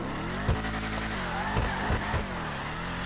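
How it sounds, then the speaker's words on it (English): Engine of a Vapid Dominator ASP muscle car in a video game, droning steadily as it accelerates through a stock top speed test, with a few brief tire or gear blips over a loud continuous roar and no talking. "let's go check out the top speed of this car"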